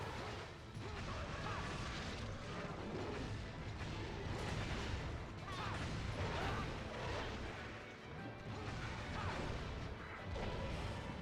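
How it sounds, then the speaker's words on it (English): Explosion and crashing effects in the Monster Hunter Tri video game, a poison blast during an online monster hunt, heard as dense, continuous booming and smashing noise that stays loud across the whole stretch. "poison explosion incoming."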